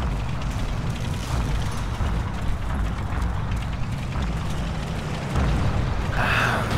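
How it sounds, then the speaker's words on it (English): Katyusha rocket artillery barrage in Forgotten Hope 2 at Dukla Pass, a continuous rumbling roll of overlapping distant explosions with a stuttering, rapid texture. It swells slightly louder near the end. "Ah, Katyusha."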